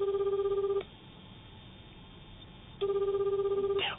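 A phone call being placed from a Japanese late-night radio studio: two bursts of steady ringback tone, one at the start and one near the end, with a quiet gap between them and no one speaking.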